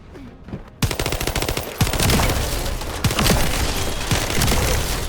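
Rapid automatic gunfire in The First Descendant video game, loud and close: a short quiet lead-in, then dense sustained bursts with sharp shot transients, with no voices present.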